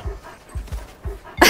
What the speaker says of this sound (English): He is one strong husky.